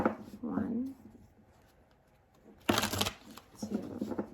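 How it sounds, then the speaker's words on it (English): Tarot cards being shuffled in a quiet room, two short bursts of riffling, a soft one near the start and a louder, crisper one later, with a voice faintly present. "I'm gonna do 3 more shuffles for Aquarius."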